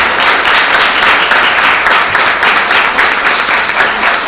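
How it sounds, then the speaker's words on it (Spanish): Audience applause after a talk at a Mexican academic panel on national themes, steady dense clapping filling the room at close range, without speech. "Un aplauso."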